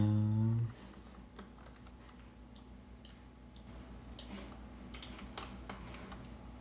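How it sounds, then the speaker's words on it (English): Light, irregular clicks of a computer keyboard being typed on, close and quiet, run on after a brief burst of game music cuts out at the start. "The keyboard's locking up again."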